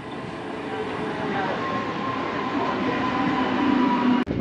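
A passenger train pulls into a station close by. It makes a loud, steady rolling rumble with metallic wheel and rail noise that slowly builds before cutting off sharply at the end.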